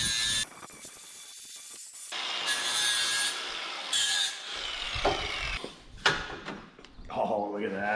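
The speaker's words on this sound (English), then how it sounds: "Give our new body panel a touch up with the old flap disc" Flap disc grinding a new car body panel on a Trans Am project, a rough, scraping abrasive whine in bursts and pauses, close and loud, with brief talk in between.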